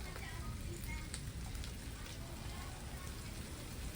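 Heavy rain falls steadily, a dense even hiss of drops hitting surfaces outdoors, continuing without pause at moderate level.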